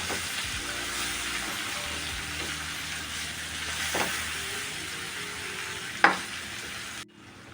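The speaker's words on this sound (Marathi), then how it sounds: "दोन मिनटंही स्लो गॅसवरती परतून घ्यायचे" Frying in oil on a low gas flame, a steady close hiss and sizzle throughout with a few faint stirring knocks and one brief sharp clatter near the end.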